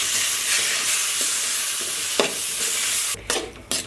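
Chopped tomato hits a hot pan of little millet adai batter ingredients, with a steady loud sizzle, a few scraping stirs and sharp clanks of the utensil near the end.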